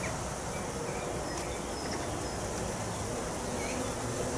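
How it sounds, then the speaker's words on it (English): Honeybees buzzing thickly around an open hive during a frame-by-frame inspection, a dense, steady hum that stays close and constant, with no talking. "it's loaded with bees"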